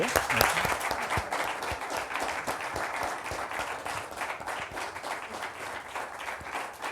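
A forum audience in a hall gives sustained applause, a thick, even wash of many hands clapping at a distance, without a break.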